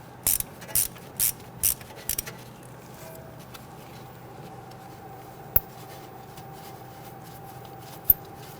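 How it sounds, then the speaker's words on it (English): A 1/4-inch socket ratchet with an extension loosens an 8mm bolt on a 2010-2019 Ford Taurus, giving five short bursts of clicking near and clear, then quiet with two sharp ticks. "So we're going to use our socket, our extension, and this is just our 1/4" ratchet. Okay, loosen it and remove this bolt."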